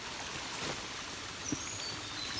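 Steady broadband rush of water at the Jim Yai waterfall near Ban Khao Phluang, Sa Kaeo subdistrict, Phetchabun, a constant close wash with one brief low thump midway.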